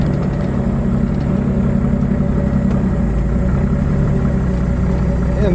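A Jeep Wrangler YJ engine rumbles low and steady up close, crawling off-road in first gear and four-wheel-drive low with no throttle, a deep unchanging drone at low revs.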